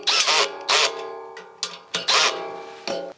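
Bolts tightened on a patio heater base with a power tool: several short, loud, whirring bursts start and stop in quick succession, close by with no talking.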